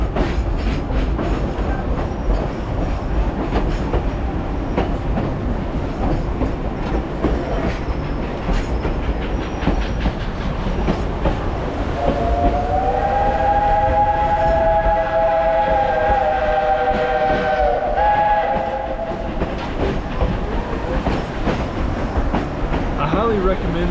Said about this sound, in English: the steam locomotive is so cool, man